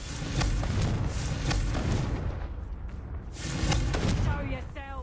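Confringo blast spell explosions in Hogwarts Legacy, a few booming bursts close by, with a voice talking over them.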